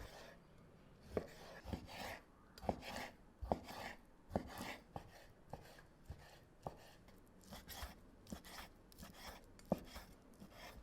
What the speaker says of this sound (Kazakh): тауықтың төс етін де майдалап тураймыз